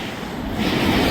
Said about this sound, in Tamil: சத்தத்தை பாருங்க தண்ணியில் சத்தம் எப்படி இருக்குண்டு.